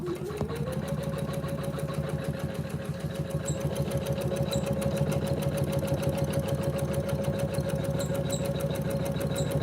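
An electric sewing machine runs while a tailor stitches a new suit, giving a steady, fast mechanical whirr and rapid needle chatter at close range. It speeds up after the first second and keeps going without pause.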